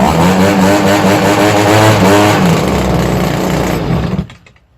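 A Stihl BG50 two-stroke leaf blower screams at high revs, loud and close, its pitch wavering before it cuts out and winds down into silence.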